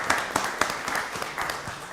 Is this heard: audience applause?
yes